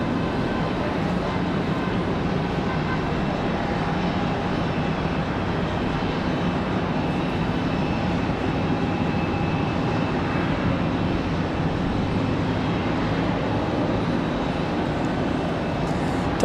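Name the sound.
Aer Lingus airliner touching down on the runway at Raleigh-Durham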